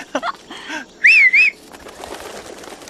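A sharp two-tone human whistle rings out loudly to a homing pigeon, followed by softer rustling as the bird takes off, with no talk.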